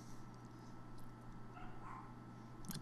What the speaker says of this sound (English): The dogs are barking like crazy downstairs.